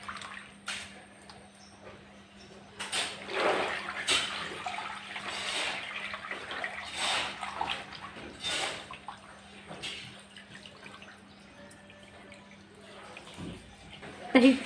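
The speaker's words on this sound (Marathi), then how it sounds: "आता डाळीचं पाणी आपण काढून घेऊ" Rinse water drains from washed mung dal in a kitchen, a series of soft splashes and trickles that come and go over a faint steady hum.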